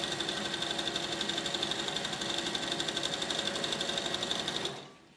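A sewing machine stitches the elastic edge of girls' boxer shorts, running steadily at a fast rhythmic pace for nearly five seconds, loud and close, then stopping abruptly.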